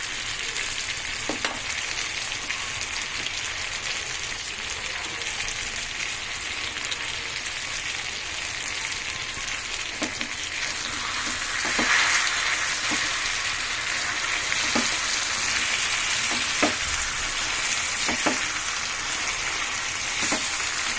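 A tempering of asafoetida and spices frying in hot oil for pulihora (tamarind rice), a steady close sizzle running throughout, with occasional sharp spatula taps and stirring sounds, no voices.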